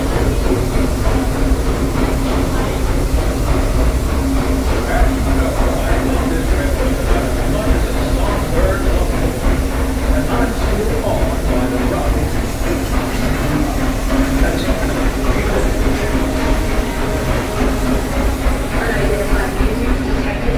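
A Walt Disney World Railroad train rolls along its track with a steady, loud rumble and clatter and a faint hiss, while a voice speaks over it.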